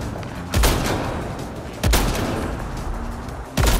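Gunfire in Mass Effect: Andromeda multiplayer, with three sharp loud shots at spaced intervals over a steady rumble of background battle noise.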